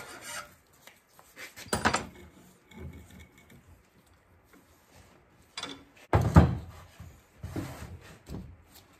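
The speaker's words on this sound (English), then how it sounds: "So we're gonna file off any burring that happened because of the pipe wrench." A file rasping off burrs on a hydraulic cylinder in a workshop, in several separate bursts of close, scratchy scraping strokes with quiet pauses between them.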